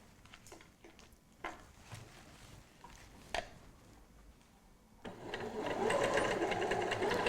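A sewing machine straight-stitches a cushion, starting after a few soft handling taps and running in a steady, close whirr for the last couple of seconds.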